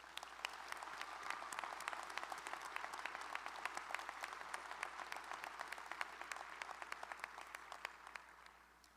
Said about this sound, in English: Friends and family, could we get another round of applause for our graduates?